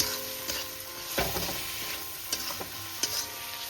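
Spices sauté in a pan for mixed dal, sizzling close and steady while a spatula scrapes and stirs in irregular sharp strokes. No one talks.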